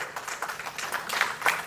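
An audience at a conference session on electronics and semiconductors applauds a speaker. Scattered, moderately faint clapping comes from a crowd that is not close by, and no one speaks.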